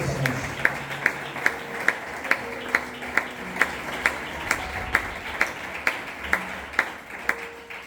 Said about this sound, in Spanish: ¿Me puedes dar un aplauso al Señor con alegría, por favor?